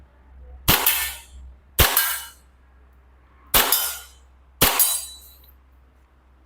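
Four loud, sharp shots from a Tokyo Marui Hi-Capa 5.1 gas airsoft pistol fired at targets 15 metres away, each a crisp crack with a short ringing tail, in two spaced pairs against a low hum.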